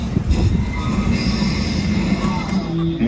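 A studio tour tram on the Universal Hollywood backlot rolls along with a steady mechanical rumble and faint wheel squeal, loud and close throughout, with no talk in the clip.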